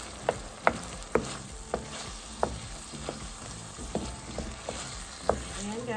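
Ground beef sizzles in a frying pan for spaghetti while a spoon stirs it, steady frying hiss broken by regular sharp scrapes and clacks of the utensil against the pan, fairly close and moderately quiet.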